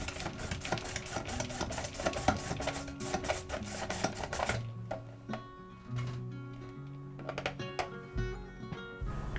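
Rapid rhythmic scraping and clacking of carrot being sliced on a vegetable slicer, with bursts of strokes and some kitchen clatter, no talking.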